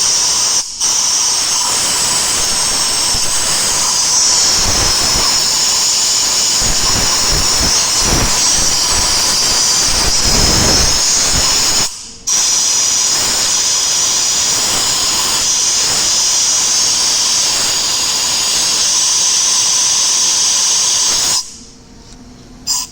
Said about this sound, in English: Now we're gonna check with the compressed air. We're gonna blow some air